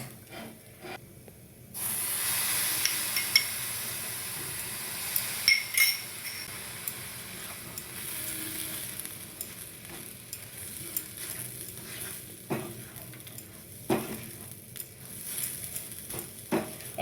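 Milk poured into a hot pan of sweet pulao (mithi pulao) sets off a loud, steady sizzle, with scraping stirs and occasional clinks running under it; the hiss jumps in after a brief quieter start.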